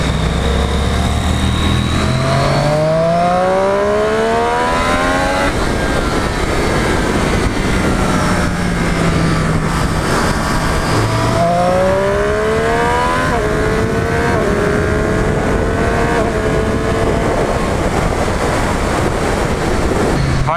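A Triumph Street Triple 765 RS motorcycle engine under way on a test ride, its pitch rising and falling repeatedly through gear changes, loud and close with wind rush.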